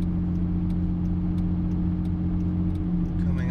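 A truck descends a hill with its Pacbrake P59 engine brake engaged at about 1,700 RPM and 30 mph: a steady, deep engine drone with strong low harmonics, constant and close throughout, with no speech.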